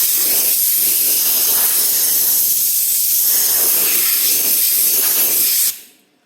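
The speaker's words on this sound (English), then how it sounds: "just with an air blower." Compressed-air blower hissing steadily over a freshly welded panel in a car engine bay, a loud continuous rush with slight pulsing that cuts off abruptly near the end.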